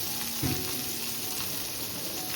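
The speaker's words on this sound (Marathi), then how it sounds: "इकडे बघा मस्त काही आवाज येतं, किरकिर किरकिर" Garlic and chillies frying in hot oil for a fish fry, giving a steady close crackling sizzle that runs evenly throughout with one brief louder pop near the start.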